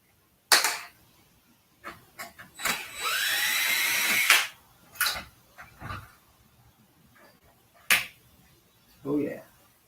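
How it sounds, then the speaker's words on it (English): Power drill backing screws out of metal while scrapping, heard as a sustained whine of nearly two seconds among several sharp clicks and brief bursts, with occasional voices. "Gotta get all them screws out."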